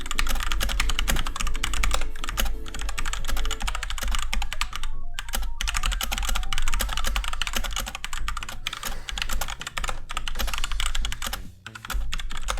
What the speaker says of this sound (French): Ouais, le clavier mécanique.